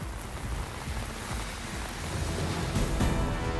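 Heavy rain pours steadily in Ayodhya, a dense, loud wash of falling water that swells slightly toward the end, with no voices.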